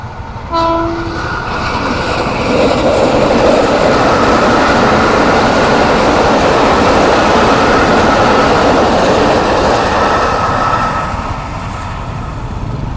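A train rumbles past close by at a level crossing in Klaten, Indonesia, after a brief horn blast, its loud steady roar and rattling wheels filling the scene before easing off.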